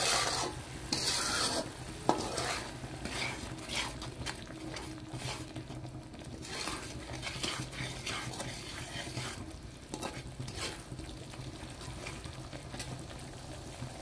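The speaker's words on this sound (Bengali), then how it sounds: "মশলাটা আমার সুন্দর করে কষানো হয়ে গিয়েছে" Spice paste for a winter vegetable curry with lentil wadis sizzles and is stirred in a pan, a steady frying hiss with repeated scraping strokes of the spoon throughout, close up and without talk.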